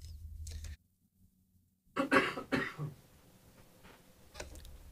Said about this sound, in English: I turned off my mic so I could cough.